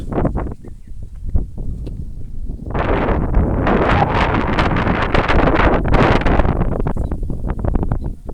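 Strong wind buffets the microphone in loud, continuous gusts, roaring and rustling without pause, with no voices.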